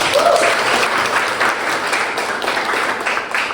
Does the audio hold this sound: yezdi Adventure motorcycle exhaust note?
no